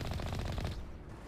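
Rapid automatic gunfire in the game Mass Effect, one loud fast-repeating burst that cuts off abruptly and leaves a brief fading tail.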